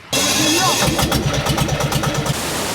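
A boat engine cranks and catches, settling into a loud, close, rhythmic chugging idle.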